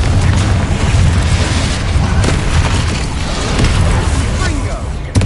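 A Bombarda blast spell goes off in Hogwarts Legacy, a loud, sustained booming explosion with rumbling bursts filling the whole moment at close range.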